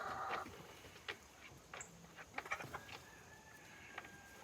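A rooster in a Georgia yard gives faint, scattered clucks and short calls over quiet background, several soft bursts spread across a few seconds.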